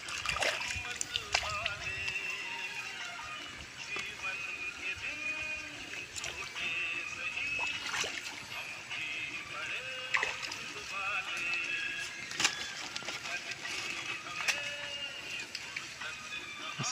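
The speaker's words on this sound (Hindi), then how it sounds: "पानी में धो रहा है अभी।" Water sloshing and splashing as a freshly caught crab is washed by hand in a village setting, continuous and close, with a voice talking over it.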